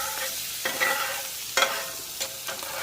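Butter browning with garlic in a pan gives a steady sizzle broken by a few sharp clicks and spatters, close and fairly quiet.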